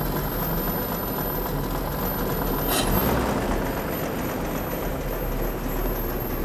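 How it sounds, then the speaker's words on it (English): A 1919 Packard 335 Twin Six engine idles in a museum, giving a smooth, steady, even drone that holds unchanged throughout at a constant moderate level with no voices. "This is a 1919 Packard 335 twin six. Smooth Beautifully smooth."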